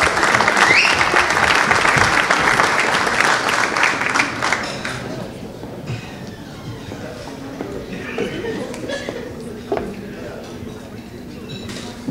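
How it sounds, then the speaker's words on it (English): Sustained audience applause fills a hall at a police awards evening, loud at first and then tapering into scattered claps and crowd murmur. "A big round of applause, please."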